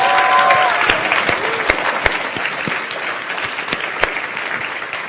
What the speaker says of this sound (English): I'll say more applause with your claws for the punchy, pinchy Sandip Koth